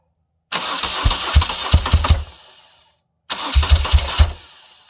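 An engine cranks and catches twice in a row, each burst sputtering loudly with uneven pops before dying away, close up with no talk.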